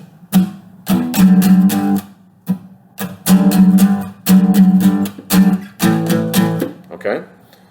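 Electric guitar plays an opening riff at full speed in a guitar lesson, with chord stabs strummed in bursts separated by short gaps, loud and close, repeating the line twice.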